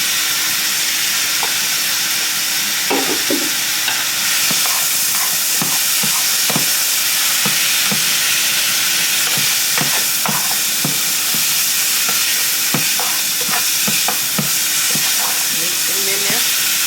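Mushrooms seasoned with garlic and roasted herbs are stirred in a hot pan, with a constant loud sizzling hiss broken by irregular clicks and scrapes of the utensil.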